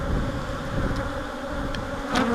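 Honeybees buzzing steadily inside an opened hive during an inspection, a dense, close drone that swells slightly near the end, with no voices.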